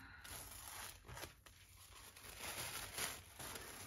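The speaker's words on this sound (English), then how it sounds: "Let's remove this film." A thin protective plastic film is peeled off a new 2021 MacBook Pro, giving a close, continuous crackling and tearing rustle that swells and fades over a few seconds with no talking.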